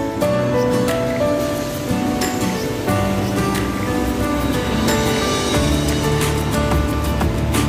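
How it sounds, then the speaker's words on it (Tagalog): Heavy rain pours down on a night walk home, a loud, constant wash of hiss that stays dense and unbroken from start to finish. "Parang lumalakas yung ulan ha."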